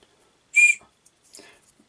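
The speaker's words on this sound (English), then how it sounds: "And this bit here is a whistle." A whistle built into the handle of a second-generation survival knife gives one short, shrill, fairly loud blast, followed by a fainter, breathier second toot with nothing else around it.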